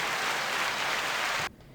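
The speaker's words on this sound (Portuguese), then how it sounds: "Aplausos para vocês que estão nos assistindo." An applause sound effect dropped into a Portuguese-language podcast: a dense, steady burst of clapping that holds evenly, then cuts off abruptly, leaving quiet room tone.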